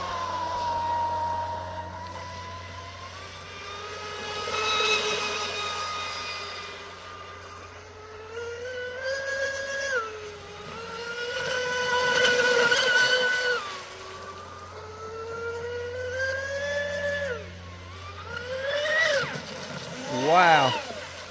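An Oxidean Dominator RC boat running on 8S at full throttle gives off a loud, high electric whine that climbs and falls in pitch as the throttle surges, over a steady rushing of water.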